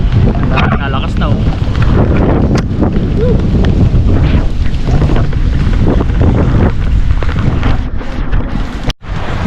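Strong, cold wind batters a microphone high on a mountain, roaring and buffeting in loud continuous gusts with faint voices underneath.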